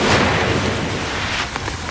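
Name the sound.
heavy rain during a typhoon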